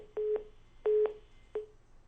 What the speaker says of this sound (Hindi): फोन लाइन डिस्कनेक्ट हो गई